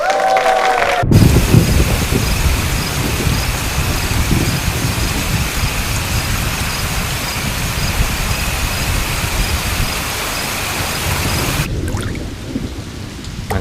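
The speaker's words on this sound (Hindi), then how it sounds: "मैंने कहा था ना योर ऑनर, आज बारिश होगी।" Heavy rain pours steadily and loudly for the whole stretch, with a rumble of thunder at the start and the downpour thinning briefly near the end.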